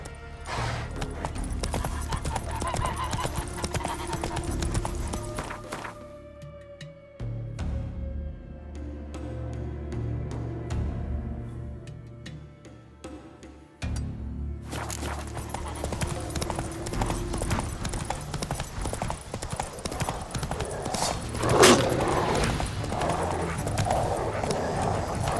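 The horse Roach gallops in The Witcher 3, hooves clip-clopping in a steady beat under layered game music and ambience, with a quieter stretch midway before the full mix returns.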